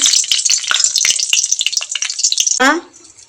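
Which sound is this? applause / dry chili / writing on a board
dry chili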